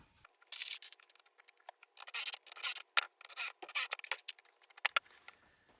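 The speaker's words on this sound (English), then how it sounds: "we will go ahead and cut the waterproof cement boards" Waterproof cement board is cut by hand while building a shower alcove. It comes through as short, dry, rasping scrape strokes in uneven bursts with brief gaps, close to the mic and alone without talk.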